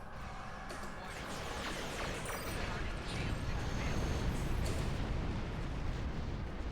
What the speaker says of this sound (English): That was a very quick explosion.